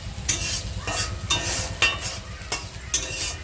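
Onions sizzle steadily in a frying pan while a spoon stirs them in brisk, regular scraping strokes about every half second, close and clear with no talking.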